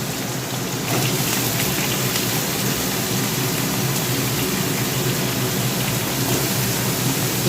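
Potatoes and pointed gourd frying in hot oil, a dense, steady sizzle that jumps louder after the first second and holds constant, close by with no talking.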